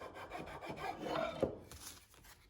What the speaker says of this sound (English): it gives you an easy way to sand these interior edges